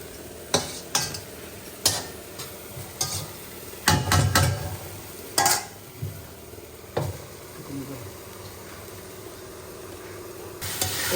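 Beef pieces being stirred and fried in a covered pan, with repeated sharp spoon scrapes and knocks against the metal over a soft sizzle, spaced irregularly, near and fairly loud, no talking.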